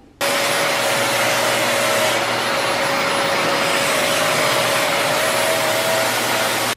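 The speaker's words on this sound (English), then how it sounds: "let's go ahead and get this vacuumed up here" Vacuum cleaner running close and loud over a damp mattress, a steady broadband roar with a faint whine that starts abruptly and holds evenly, with no voices.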